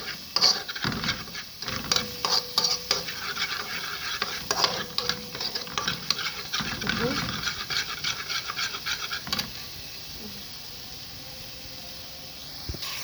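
Garlic and tomatoes are stirred in a sizzling pot, with repeated scraping and clatter over steady frying that softens near the end.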